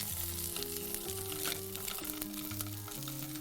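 A pan-frying sizzle holds steady and close as the other side cooks, with a sustained tonal hum layered over the crackle and no voices.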